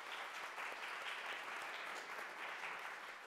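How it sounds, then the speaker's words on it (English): Applause from an audience at a student conference presentation session, a steady dense wash of clapping that holds for several seconds without any voices over it. "let's all give our presenters a round of applause"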